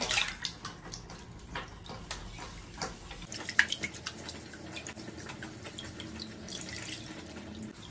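Grains are swirled and rinsed in a vessel of water so stones sink, giving close, steady sloshing with quick drips and splashes and a brief louder splash midway.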